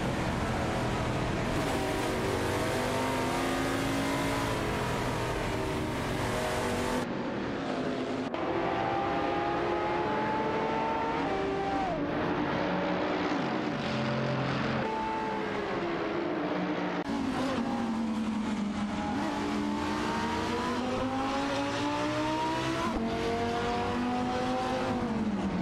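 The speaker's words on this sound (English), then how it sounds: "Edelbrook is handling a BMW Z4 M Coupe GT3, while R.A. Raphael is navigating an Ascari KZ1 R-Dot." A BMW Z4 M Coupe GT3 and an Ascari KZ1 R racing in a video game, engines droning loudly with rising and falling pitch sweeps and several abrupt cuts between cars, no voices.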